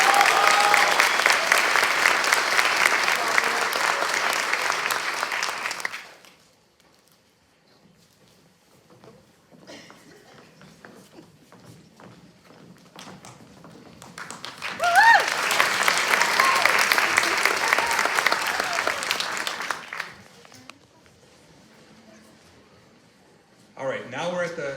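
A pageant audience claps for young contestants in two long rounds of dense, lively applause separated by a quiet stretch, with occasional cheers and a voice in between; another burst of clapping begins at the end.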